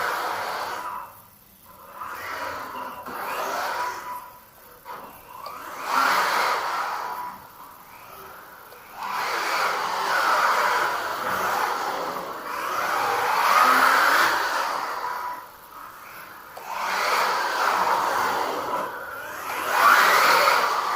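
Small MJX Hyper Go 14302 radio-controlled car motor whining at high pitch, surging and easing repeatedly as it accelerates and brakes, fairly close with no talking over it.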